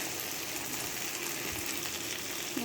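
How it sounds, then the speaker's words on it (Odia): Dry spices, including Kashmiri chili, fry in a pan for rohu fish curry with a soft, steady sizzle close by and no talking. "ଏଥିରେ କିଛି ଶୁଖିଲା ମସଲାକୁ ମୁଁ ଆଡ଼୍ କରୁଛି।"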